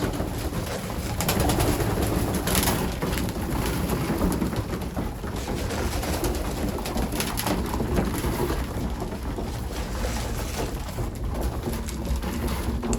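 Dense, continuous cooing and wing flutter from a large flock of pigeons on a loft, loud and close, steady throughout without talking.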